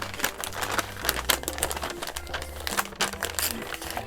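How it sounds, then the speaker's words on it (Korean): Plastic packaging of a lucky bag of stickers crinkles and tears as it is opened close by, a busy run of crackling, rustling bursts without a pause. "이제 제가 기다렸던 럭키백 같이 뜯어볼게요"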